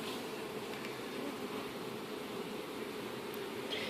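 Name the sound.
honey bees buzzing during a hive inspection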